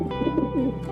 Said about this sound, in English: Pigeon. Pigeon means